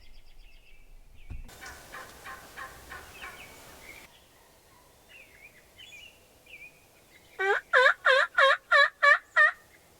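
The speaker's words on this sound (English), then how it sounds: "all of a sudden I heard a loud gobble, probably only 100 yards away." Wild turkey gobbling about a hundred yards off, in a run of six loud, evenly spaced bursts near the end, after fainter earlier calls and a stretch of quieter outdoor ambience.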